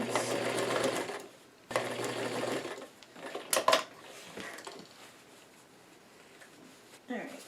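Sewing machine running two quick bursts of stitching along a half-inch seam on a fabric newsboy cap, followed by handling clatter and a quiet pause, with faint talk in the background.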